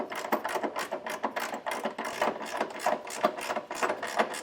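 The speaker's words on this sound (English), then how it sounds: "I'm going to just use a ratcheting wrench and get these tightened down." Rapid ratcheting clicks from a wrench tightening trailer hitch bolts under a 2025 Toyota, a steady close-up run of short mechanical bursts with no talk.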